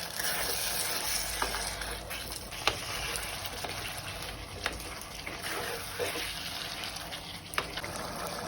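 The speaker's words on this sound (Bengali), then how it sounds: "আমি আরো কিছুক্ষণ এটাকে কষিয়ে নেব" Chicken pieces fry and get stirred in hot oil for biryani, a steady close sizzle with occasional scraping clicks from the spoon.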